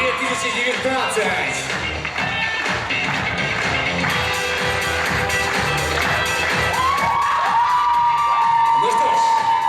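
Crowd at a Miss and Mister BSU 2019 award ceremony cheers, whoops and applauds for a winner, a loud and dense roar that carries on throughout, with shouting voices mixed in.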